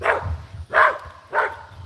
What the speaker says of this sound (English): Sorry about this stupid ass fucking dog.